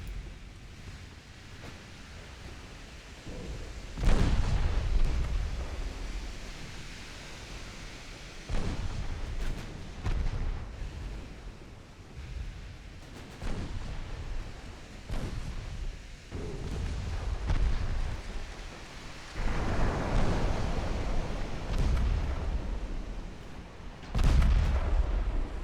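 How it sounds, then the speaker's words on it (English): Torpedo hits explode against warships in an 1897 Ottoman naval battle game, a series of heavy booms spaced several seconds apart over a continuous rolling, surf-like rumble. "We're gonna get more torpedo hits"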